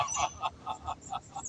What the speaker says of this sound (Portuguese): Olha os gansos vindo aqui para prestigiar.